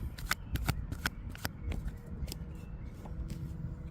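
A deck of tarot cards being shuffled, with a quick run of crisp riffling snaps and soft slides close by, irregular bursts over a low room hum.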